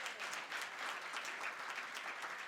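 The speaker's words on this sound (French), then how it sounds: "je souhaite qu'on lui fasse un tonnerre d'applaudissements," An audience at the 2023 RAF gala applauds a newly graduated guest, with steady, dense clapping that holds evenly throughout at a fairly soft level.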